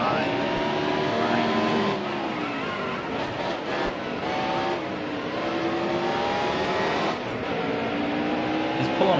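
Race cars in the NASCAR Heat Evolution video game: a steady, loud engine drone with rising and falling revs as cars run the oval, under someone talking.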